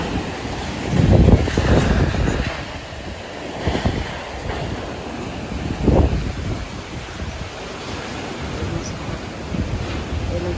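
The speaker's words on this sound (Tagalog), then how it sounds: "Grabe ang hangin." Strong typhoon wind roars and buffets the microphone in heavy gusts that swell and ease, loud and close, with no voices.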